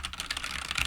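A short burst of rapid computer keyboard typing, close-up and steady, with no voices.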